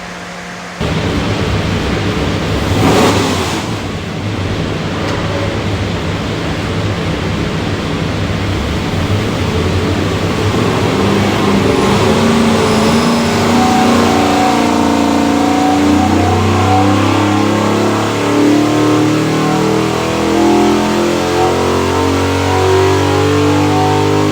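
A 503 hp 370ci LS V8 bound for a 1974 Chevy Nova runs on a dyno, roaring loud and close as it climbs steadily in pitch through a long sustained pull with no voices.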